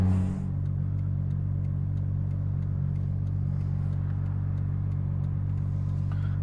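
A 2JZ-swapped Nissan S15 Silvia with an 8HP70 automatic gearbox holds a steady, moderate engine drone from inside the cabin, a constant low rumble with faint ticking and a brief rise near the end.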